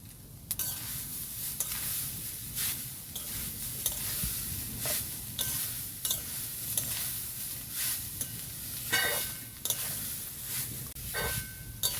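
Grated coconut being stirred in a wok over a lit stove, a steady hiss and sizzle with repeated scraping strokes of the spoon against the pan, close and continuous.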